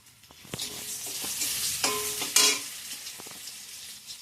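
Whole garam masala spices sizzle and crackle in hot oil, close up, with a few sharp pops and stirring scrapes, building slightly midway before settling back to a soft fry.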